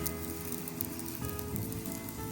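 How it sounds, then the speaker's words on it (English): Sourdough flatbread bubbles in a hot pan with a soft, steady sizzle, fine popping and hissing continuing quietly throughout, with a faint hum underneath. "Look at those beautiful bubbles and listen to that delicious sizzle"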